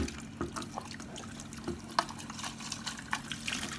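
A kitchen sponge is rinsed under running tap water, a quiet steady trickle broken by soft squishing splashes and drips as it is squeezed.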